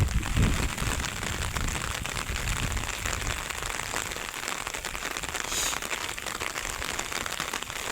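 Steady rain falls on a custard apple orchard during pruning, a continuous dense patter and hiss of drops on leaves and ground with no voices.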